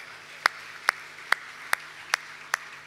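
Six sharp claps spaced about every half second ring out in a church service hall, steady and moderately loud, with a low hum beneath and no talk.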